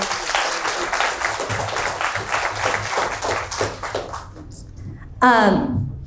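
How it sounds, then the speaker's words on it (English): Audience applause fills a room after a talk at a work-advancement seminar, a steady dense clapping that fades out, followed by a brief burst of speech. "Please give her a round of applause."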